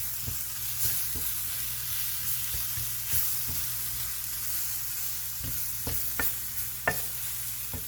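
Chicken filling with ketchup being stirred in a pan, a steady low sizzle with spoon scrapes and knocks against the pan recurring through the whole stretch.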